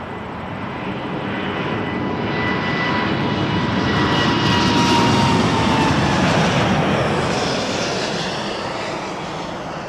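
An airliner rolls for takeoff at Toronto Pearson, its engines a loud, broad, steady roar that swells toward the middle and eases slightly at the end, heard from a distance with no voices.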